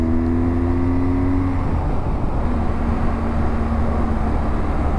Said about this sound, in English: I love the sound of the Boxer engine.